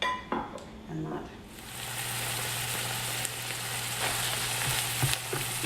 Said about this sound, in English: Oh, it's looking good, sizzling nicely.